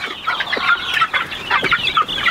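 A hen with chicks gives soft, repeated clucks and chirpy calls in irregular bursts, close by and steady, with no talking.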